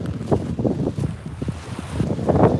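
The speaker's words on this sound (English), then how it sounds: "Is that wind becoming too much of a pain?" Blustery wind buffets the microphone at a seaside marina at Shotley among boats and docks, a loud continuous low rumble with gusting bumps throughout.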